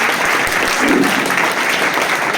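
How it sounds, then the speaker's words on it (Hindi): Students applauding in a classroom, a short burst of dense, steady clapping from many hands, loud and close, with no pause across the moment. "तालियां बजाइए सभी लोग।"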